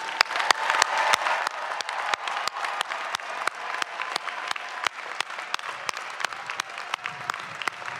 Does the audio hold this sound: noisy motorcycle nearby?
no